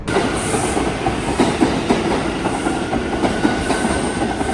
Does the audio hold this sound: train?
yes